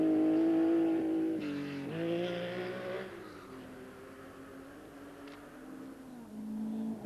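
A Citroën Visa rally car driven by Mark Lovell on the 1984 RAC Rally, its engine whining and shifting pitch as it accelerates and passes, loud at first, then fading.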